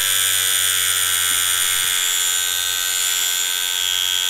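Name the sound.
Ambition Torped tattoo machine running with magnet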